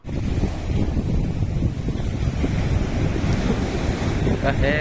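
Sea waves surging against a rocky coast at Chabahar, a loud, continuous rumbling wash mixed with wind buffeting the microphone, with no talking.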